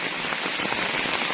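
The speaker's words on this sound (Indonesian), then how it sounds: "jadi ini hujannya hujan badai kabut" Heavy storm rain pelts a camping tent, a dense, loud, continuous patter with wind, close and unbroken, no voices.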